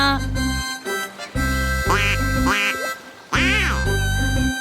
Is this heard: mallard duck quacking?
yes